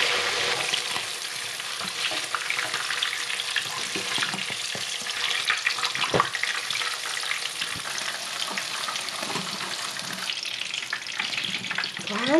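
Pork ribs fry in hot oil on high heat, a loud continuous sizzle with crackling pops and occasional stirring scrapes, steady for the whole stretch with no talking.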